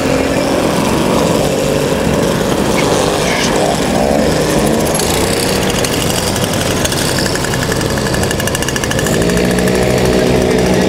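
Solex motorized bicycles starting a race at the Chambley circuit, a loud continuous buzz of several small two-stroke engines revving together up close, with rising pitch sweeps as they pull away.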